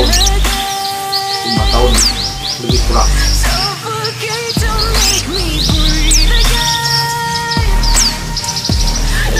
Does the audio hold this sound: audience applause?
no